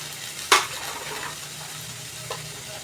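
A brief sharp sizzle as chutney ingredients (dried chilli, chopped coconut, ridge gourd peel, tamarind) hit a hot pan, then a quiet hiss and one small clink of a utensil.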